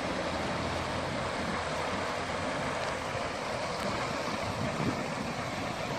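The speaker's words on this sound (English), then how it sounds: "Beautiful running water here." A river's running water rushes steadily near an old train trestle and a new stone bridge in Douglas, New Brunswick, a constant broadband wash with no pauses from start to finish.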